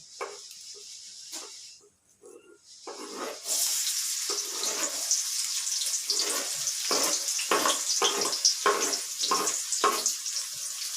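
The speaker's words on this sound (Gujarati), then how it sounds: "તેલ આવી ગયું છે ને પહેલાં તો આપણે ડુંગળી નાખી દઈશું" Chopped onion dropped into hot oil for a Gujarati roasted-aubergine (ringan no olo) dish, bursting into a steady, close sizzle after a quieter start, with intermittent scraping stir strokes cutting through the hiss.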